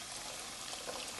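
Hot water poured into a pot while making breakfast: a steady, faint splashing stream that runs unbroken, with no talking.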